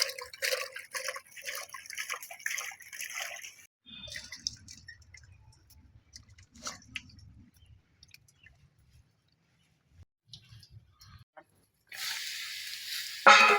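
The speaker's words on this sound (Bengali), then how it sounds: "সিমটাগুলো ধুয়ে নেই।" Flat beans being washed by hand in water, with soft splashing and dripping, intermittent rubbing and rustling, and a brief louder gush of water near the end.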